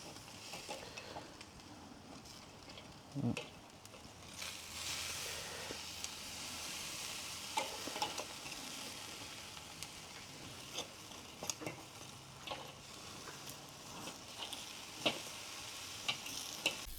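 Steak and fire-roasted vegetables sizzling on a Weber grill on a rainy day, a steady close hiss of frying with scattered pops and clicks from utensils, and no talking.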